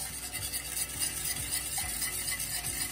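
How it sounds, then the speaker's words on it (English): A whisk scrapes and clatters against a bowl as milk is slowly beaten into a flour mixture for Portuguese custard tarts, a close, continuous rhythmic rubbing with no talking. "Whisk the milk ever so slowly into our flour mixture."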